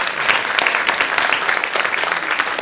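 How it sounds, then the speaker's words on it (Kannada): Audience applause fills a stage show of harmonica music, dense steady clapping from many hands at a strong level throughout, with no talking over it. "ನಿಮಗಾಗಿ ಇನ್ನೊಂದು ಜೋರಾದ ಚಪ್ಪಾಳೆ."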